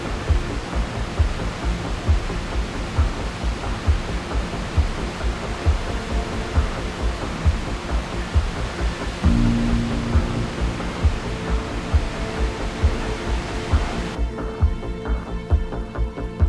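Topar waterfall, hidden among dense growth in monsoon-season Bastar, pours as a steady broad rushing roar, constant and enveloping from start to finish with no voices over it.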